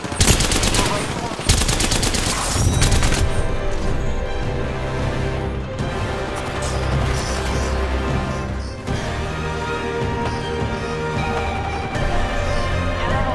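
Apex Legends gunfire: dense bursts of automatic weapon fire and rapid shots crackle loudly throughout, with in-game voices and effects mixed in.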